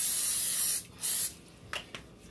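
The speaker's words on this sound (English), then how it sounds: "Olive oil spray." An olive oil spray can sprays in two sustained hissing bursts onto a pan, followed by a couple of faint clicks or light taps up close.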